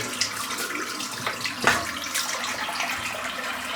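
Tap water runs steadily into a bathroom sink while a shaving razor is rinsed under it, a soft continuous splashing hiss with a brief louder splash partway through.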